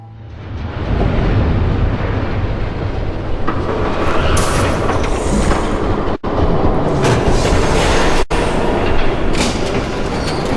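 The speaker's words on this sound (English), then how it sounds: "There's a train coming." A train rushes past in the Batman Telltale video game, a loud, sustained roar of wheels and rattling cars that swells up within the first second and stays dense throughout, with brief metallic squeals.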